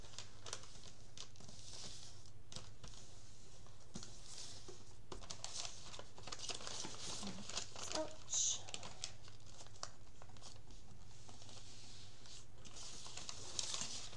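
Paper edges folded in around a sewing-pattern journal cover, a soft continuous crinkling and rustling close by with occasional taps, quiet throughout.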